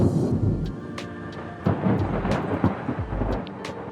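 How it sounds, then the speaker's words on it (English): Distant thunder rolls in several deep, low rumbles over a steady hiss of rain, swelling and fading without any voices. "Oh, hear that distant thunder."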